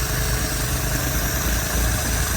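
A Lotus Elan engine idles steadily while its carburettors are being tuned, a loud, close, even mechanical drone with a slight rough pulse and no talking.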